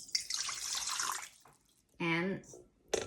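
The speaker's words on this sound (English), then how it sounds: "Pour the warm water in the big bowl." Warm water poured into a big bowl while making hotteok, a hissing splash in the first second and a half, followed by a voice and other talk.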